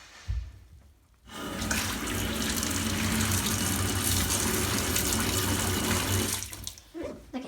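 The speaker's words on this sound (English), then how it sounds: "How do I turn on the bath water?" A bath tap is turned on and water gushes loudly and steadily into the tub for several seconds, then tapers off, with a brief handling thump before it starts.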